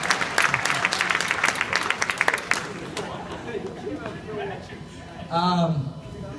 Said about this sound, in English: So give those guys a round of applause.